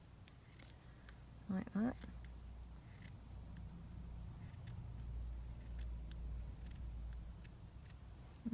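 Scissors trimming paper craft ephemera pieces: a series of crisp, close snips scattered across several seconds under a quiet room, with a person talking briefly.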